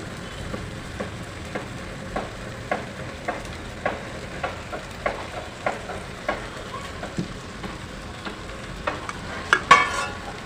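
A Marathi-style bhajani thalipeeth fries in oil on a pan with a steady, soft sizzle, broken by regular light taps and scrapes of a spatula and a slightly louder crackle near the end.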